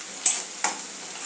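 Onion frying in a pan for sukha chicken, stirred with two brief scraping strokes over a steady soft sizzle, close and fairly quiet.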